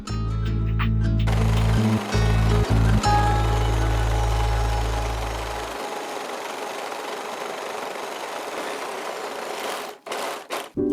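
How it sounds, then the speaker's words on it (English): An overlocker serger runs along one edge of a fabric waistband for wide-leg pants, a loud steady mechanical whir with brief stops and restarts, then it falls quiet and only faint handling sounds remain. "Now I'm overlocking along just one edge, and it doesn't matter which one."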